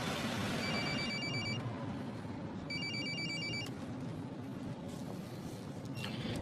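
A mobile phone rings in two distinct electronic ringtone bursts over constant background noise, close by and clearly audible.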